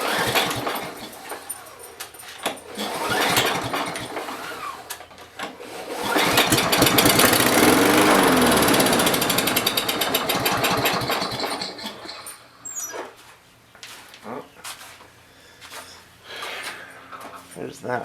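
A Kohler engine's recoil starter rope being pulled during a carburetor clean and recoil repair, heard as rough whirring bursts followed by a sustained loud mechanical drone, with someone talking throughout.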